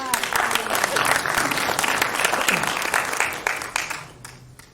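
A room of business club members claps loudly for a new member who has been asked to stand, the applause continuous before tapering off near the end.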